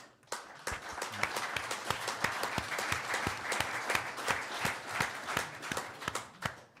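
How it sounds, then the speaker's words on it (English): Crowd applause at an Ipswich Town football club event, a dense, steady stretch of clapping from many hands that carries on throughout with no talk over it. "I think they should get a round of applause now."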